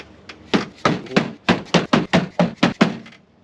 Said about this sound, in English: you just give a quick little tap with the hammer and they'll pop straight in